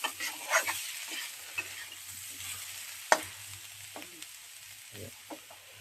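Potatoes sizzle and fry in a pan for ghugni while a utensil scrapes and stirs them now and then, with occasional sharp knocks against the pan.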